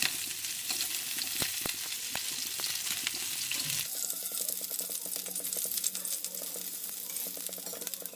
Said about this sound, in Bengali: এখানে আমার ফুলকপিগুলি একটু হালকা করে ভাজা হয়ে গেছে।